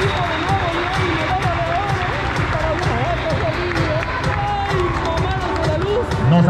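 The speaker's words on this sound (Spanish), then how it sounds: "un aplauso para Oaxaca" A crowd at a Paranacionales CONADE 2021 medal ceremony in Cancún applauds the Oaxaca team, with continuous clapping and crowd noise beneath an announcer's amplified voice.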